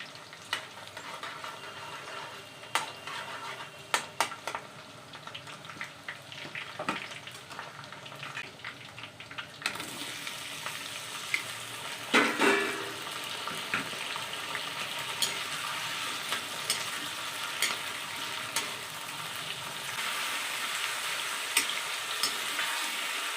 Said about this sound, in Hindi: अभी मैं प्याज डाल कर रही हूँ